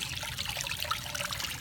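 Water trickles steadily from a homemade fountain driven by an adjustable pump set to 210, a soft continuous splashing close by with no talk.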